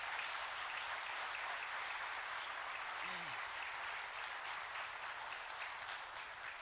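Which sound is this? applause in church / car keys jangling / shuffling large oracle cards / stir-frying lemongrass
applause in church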